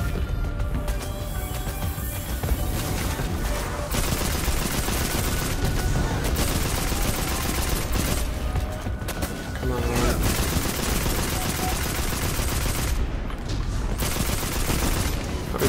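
Enemies fire on the player in the video game Destiny 2 on the planet Nessus: sustained, rattling automatic bursts and impacts run nearly nonstop at close range, while someone talks over the gunfire.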